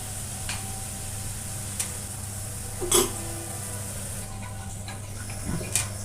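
Onion, coriander powder, cumin powder, ginger, garlic, salt and a bay leaf sauté in oil for a bitter gourd curry, giving a soft steady sizzle with a few faint clinks and stirring taps, and no talk.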